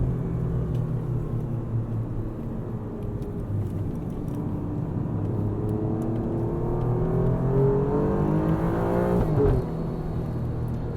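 An Alfa Romeo Giulia Quadrifoglio's engine rumbles steadily from inside the cabin and then climbs in pitch as the car accelerates, before a sudden drop near the end.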